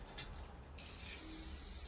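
An aerosol can sprays onto a drawing, beginning as soft faint noise and turning into a steady close hiss for the last second.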